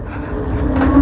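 A homemade motorized cargo bike built around a 200-litre drum, with a small wheel, accelerating hard. The engine drone rises steadily and grows louder over about a second, with a tone that climbs in pitch.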